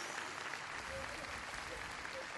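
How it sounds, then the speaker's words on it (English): A crowd applauding at the Michael Jackson memorial in Los Angeles, a faint, distant, continuous wash of clapping with a voice talking over it. "People are applauding"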